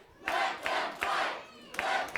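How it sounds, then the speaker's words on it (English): A wrestling arena crowd chants "let them fight" in rhythmic, roaring bursts, three to four loud surges of massed voices heard from a distance without commentary. "The crowd saying, let them fight."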